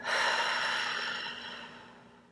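One long, breathy exhale is released close to the ear, strongest at the start and then fading slowly over about two seconds.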